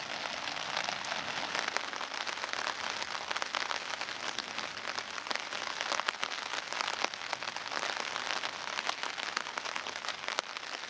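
Steady, dense rain patters on a hammock camp, a constant close hiss of drops with scattered sharper taps, no voices over it.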